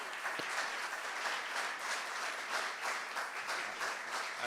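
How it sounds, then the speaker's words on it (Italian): Steady audience applause at a food excellence event in the Venice region, a dense wash of many hands clapping continuously at moderate distance. "Un ulteriore applauso"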